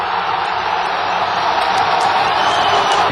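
Figueirense football crowd in a stadium cheering a goal, a steady, loud roar of massed voices with no break.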